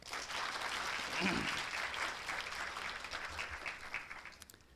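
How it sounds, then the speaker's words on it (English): Large indoor audience at a university orientation event applauds steadily for team members, a dense wash of clapping that fades toward the end with a few faint voices mixed in. "please give them a big round of applause"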